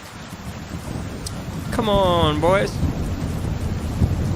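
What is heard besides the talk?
thunder during a storm in video game Kingdom Come Deliverance 2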